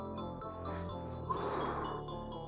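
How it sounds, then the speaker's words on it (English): Heavy breathing during a Christmas cardio HIIT home workout: gasping breaths swell over steady background music, close and moderately loud. "Breathing hard still."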